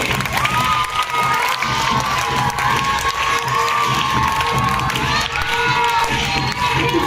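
A school audience at a children's festival event claps and cheers loudly, with shrill children's shouts and crowd noise forming a continuous, dense roar for the whole stretch.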